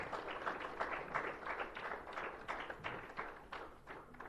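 Applause from an audience at an outdoor tribute ceremony for freedom fighters at a Netaji Subhas Chandra Bose statue, a steady patter of many hands clapping at middling distance without talk.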